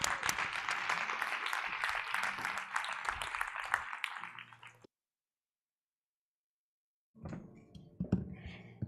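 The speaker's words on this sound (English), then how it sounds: "let's give her a round of applause as she comes up." Audience applause at a leadership summit as a speaker comes to the stage, heard as several seconds of dense clapping that thins out, then silence, then a short burst of clapping with some voices.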